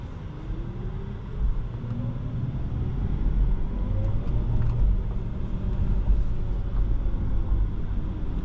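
A 2022 Audi e-tron GT Premium Plus electric car drives along with a low, steady road rumble and a faint rising motor whine, heard from inside the cabin.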